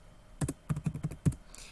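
A graphing calculator keypad is tapped to enter a linear equation, producing a quick irregular run of six or seven crisp plastic key clicks up close, with no talking.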